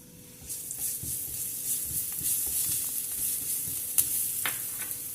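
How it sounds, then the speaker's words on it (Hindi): Half a tablespoon of crushed garlic sizzling in hot oil in a pan on a stove, a steady close hiss and crackle with scattered pops and no voices. "और चूल्हा मैंने ऑन कर दिया और अब इसमें डालूंगी लहसुन है 1/2 टेबल स्पून कुटा हुआ"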